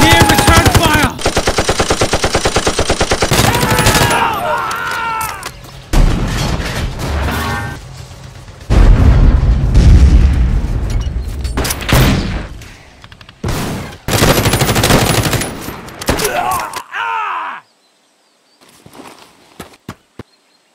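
Toy army men battle scene filled with loud bursts of rapid machine gun fire and booming explosions in layered waves, breaking off into near silence at the end.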